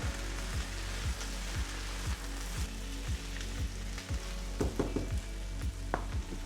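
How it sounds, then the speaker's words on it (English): Peas and tomatoes being stirred in a pan of frying vegetables for a bacon, egg and vegetable bake, a steady sizzle with regular scraping strokes of a spoon roughly every half second and a few clinks near the end. "Our peas. And tomatoes. We just give that a good stir."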